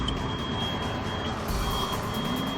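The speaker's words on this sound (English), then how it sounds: "And we fill up the tires." Air rushes steadily into the tires of a SHERP all-terrain vehicle in a cold, icy setting, making a continuous broadband hiss with a thin, high whine running under it the whole time.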